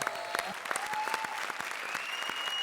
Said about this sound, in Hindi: धमाल परफॉर्मेंस, जोरदार तालियां सुदेश और कृष्णा के लिए।